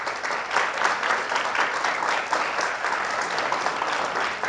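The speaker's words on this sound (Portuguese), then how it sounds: "Salve de palmas." Round of applause from an audience at a talk, sustained dense clapping throughout, steady and fairly loud with no speech over it.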